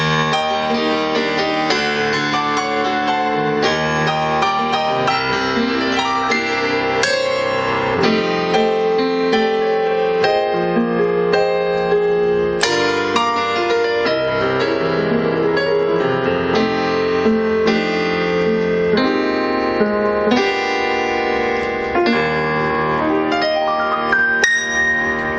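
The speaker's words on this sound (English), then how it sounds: "which is their grand piano, and it sounds like this." A Roland BK-5 backing keyboard's grand piano voice plays continuously with rich, sustained chords and melody lines ringing together, steady and full throughout.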